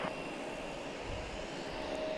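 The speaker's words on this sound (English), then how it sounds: "We got a JetBlue coming in from Buffalo, an Embraer 190." A JetBlue Embraer 190 jet airliner on approach to land at Logan Airport gives a steady, broad, distant engine roar that holds evenly for a couple of seconds with no voices.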